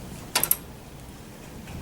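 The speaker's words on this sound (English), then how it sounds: "we'll first start with sliding the roller over to the left" A printer's platen roller is slid to the left during disassembly, giving a quick cluster of three sharp metallic clicks close by against a steady background hum, followed by quiet.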